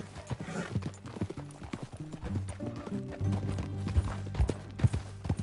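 Horse hooves clip-clopping in Red Dead Redemption 2, a steady close trotting rhythm with occasional louder hoof strikes and a whinny, alongside music and speech.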